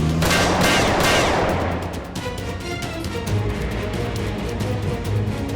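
Dense, sustained gunfire, a loud burst at the start that settles into rapid overlapping shots and rumbling reports, with no voices.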